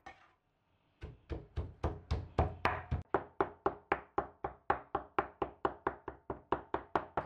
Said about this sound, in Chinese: 最后把切好的肉剁得碎一些。